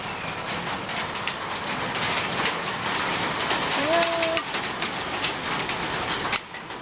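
Steady rain patters across the whole clip, with a brief pigeon-like coo in the middle and faint background voices.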